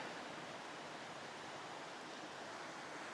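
Water from a small waterfall at an abandoned site in Appalachia rushes steadily, a broad even hiss of flowing water, faint and unbroken with no talk.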